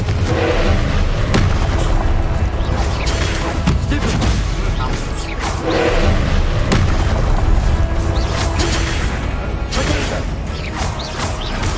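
Confringo fire spells blast repeatedly in Hogwarts Legacy, a dense run of booming impacts and crashes layered over continuous loud game action, with a voice talking now and then.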